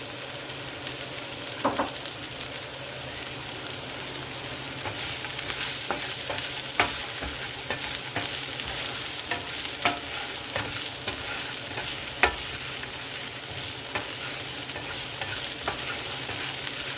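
Shrimp and vegetables stir-fry for fried rice under a constant sizzle, with scattered scrapes and taps of a utensil against the pan throughout.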